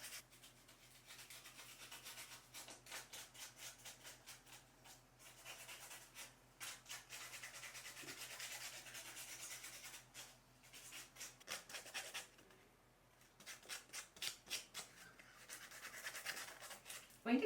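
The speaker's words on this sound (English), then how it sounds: "So I'm going to give my welcome a little bit of a sand." A painted wooden welcome sign is sanded by hand with quick, faint rhythmic back-and-forth rubbing strokes in bursts, quiet and close, with no talking.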